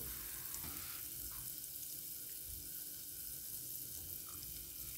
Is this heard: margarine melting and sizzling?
yes